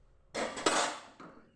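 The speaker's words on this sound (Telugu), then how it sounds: "ఇదిగోండి ఈ కడాయి పెడతాను" A metal kadai is set down on a stove burner with a single clanking contact and a brief ringing clatter, followed by a fainter second knock, close and clear in a quiet kitchen.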